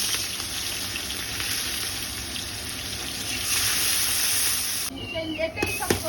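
Onions tipped into hot oil for catla fish kalia: a loud, dense hiss of frying rises and holds close by, with a short burst of clatter and a spoken remark near the end.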